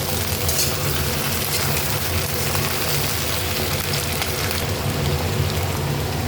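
Malabar spinach (pui shaak) stalks fry in a pan with onion and panch phoron spices, giving a steady, dense sizzle that crackles without pause and carries no talking.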